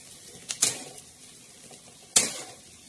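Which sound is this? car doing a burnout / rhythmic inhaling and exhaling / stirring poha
stirring poha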